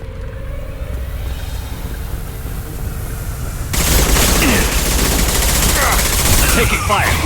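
Gunfire in Mass Effect 2 crackles as dense, continuous shooting over a rumbling background, then jumps abruptly louder and harsher halfway through as the firefight intensifies.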